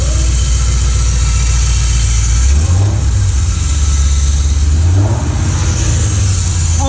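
A Lincoln Mark VIII with a manual transmission conversion and a noisy clutch idles, then revs up twice in quick succession, the engine note climbing and falling back each time, close and loud with no talking.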